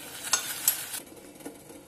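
A spoon stirs salt into a pot of boiling water for atta noodles, a few soft scrapes and clinks over a faint bubbling hiss, close and quiet.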